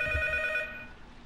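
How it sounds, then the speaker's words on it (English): A telephone rings in the horror video game P.T., a single short electronic bell trill with a bright sustained tone that cuts off and leaves a faint low hum behind. "and then the phone rings."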